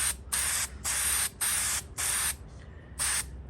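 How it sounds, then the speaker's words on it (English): Five short bursts of Permatex High Tack aerosol gasket sealant spray hiss, each about half a second, separated by brief pauses, close and steady. "regular aerosol tip, and then you just go like you're painting a piece of metal"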